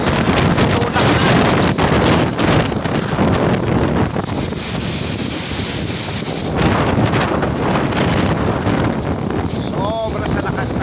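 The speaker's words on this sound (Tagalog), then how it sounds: "Sobra sa lakas ng hangin." Strong typhoon wind buffets the microphone in heavy, continuous roaring gusts across the whole stretch, loud and close, with a voice briefly breaking through near the end.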